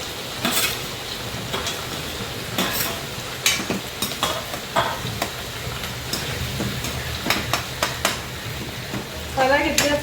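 Onions and curry leaves fry in hot oil with a steady close sizzle, broken by sharp pops and spatters and occasional stirring clatter, no one talking.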